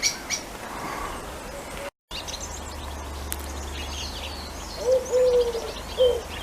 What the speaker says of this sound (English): in the background you can hear collared doves singing.